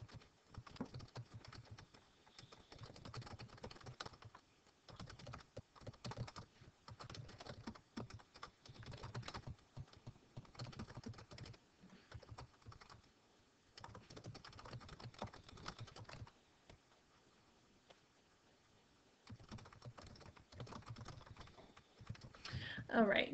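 Someone types text on a computer keyboard in quick bursts of close, light key clatter, with short pauses between runs of keystrokes.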